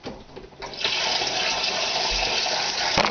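Warm water pours steadily for a few seconds into a bowl of yeast batter for Dutch apple fritters, a close, rushing splash that runs alone without any talk.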